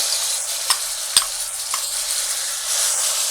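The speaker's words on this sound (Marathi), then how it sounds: "त्यामध्ये मी आता आलं लसूण आणि मिरचीची जी पेस्ट आहे ती घालते" Ginger, garlic and chilli paste fries in hot oil for vada pav, making a bright, steady sizzle with a few sharp stirring clinks near the start, close and alone without any talk.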